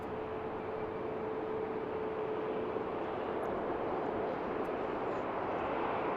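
A Southwest Airlines airliner in Nevada 1 livery at BWI airport gives a steady, broad jet roar at moderate distance, holding evenly throughout with a faint tonal whine running through the first half.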